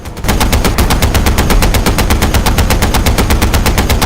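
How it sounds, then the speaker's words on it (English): A DShK .51 caliber anti-aircraft gun fires one long, loud, sustained burst of rapid, evenly spaced shots that continues without a break to the end. "The resonant noise and deliberate rate of fire of those dreaded Dishka .51 caliber anti-aircraft guns."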